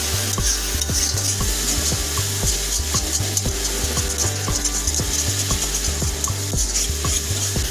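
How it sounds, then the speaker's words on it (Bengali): Chicken with ginger garlic paste sautés over a low flame, a steady sizzle under quick, regular scraping stirs of the spoon against the pan, close and continuous. "এখন এটাকে আমরা মিনিট 2 ধরে একেবারে লো ফ্লেমে কষিয়ে নেব।"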